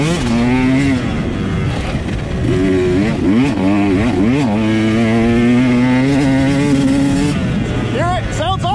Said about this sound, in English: Bike sounds a little backed up.